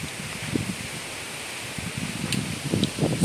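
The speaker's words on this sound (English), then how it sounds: "So windy, guys, see?" Wind gusting outdoors on a hot, windy day, a steady blustery rush with low rumbling buffets against the microphone and a rustle near the end, no talking.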